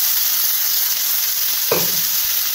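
Mutton liver goes into hot oil with turmeric, setting off a loud, dense, continuous sizzle close up that holds steady throughout.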